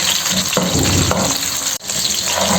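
Onions fry in hot oil in a kadhai, a steady close sizzle with a few stirring scrapes and a brief break in the noise, no voice over it.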